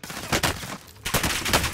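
Gunfire in Call of Duty: Modern Warfare: loud, close bursts of rapid shots, one burst near the start and a longer volley after a brief lull.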